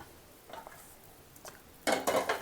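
Dark-roasted peanuts are tipped from a pan onto a plate in a home kitchen, a few light clinks followed by a louder rattling pour of nuts against the plate, close by and without talk.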